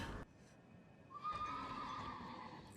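A horse in the Elden Ring video game lets out a clear, drawn-out neigh after a brief thud, heard alone and fairly close.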